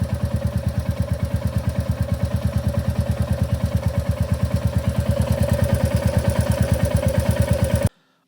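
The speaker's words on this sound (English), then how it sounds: "there's a bit of a tap that goes on, and I can hear it at the top of the engine" A Royal Enfield Bullet 350 motorcycle engine idles steadily, with a fast, even valve ticking from the top of the engine running through the whole stretch before it cuts off abruptly at the end.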